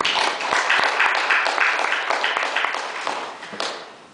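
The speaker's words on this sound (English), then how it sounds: "please join me in a final round of applause for our guests" Closing applause from an audience for guest speakers at a talk on animal rights, a full, close wash of many hands clapping with a few sharper claps standing out, fading gradually toward the end.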